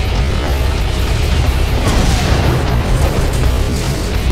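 A shotgun blast in the Terminator Dawn of Fate video game, heard as a loud, dense, roaring burst that fills the whole stretch with no clear gaps, close and heavy.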